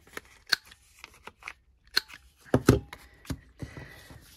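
Scissors snip through paper to cut out labels for a junk journal envelope bellyband, a run of crisp, close cuts at an uneven pace with quiet gaps and a louder cluster midway, no voices.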